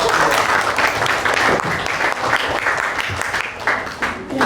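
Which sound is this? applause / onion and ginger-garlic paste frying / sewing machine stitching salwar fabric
applause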